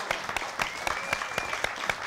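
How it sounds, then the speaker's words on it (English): Light applause from a small audience at a community storytelling event, individual claps distinct and fairly evenly spaced, moderately quiet throughout. "let's give them a round of applause"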